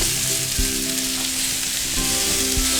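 Chicken and mushroom stir fry sizzling steadily in a hot pan, loud and close, a continuous hiss with a few light knocks of stirring and no talking.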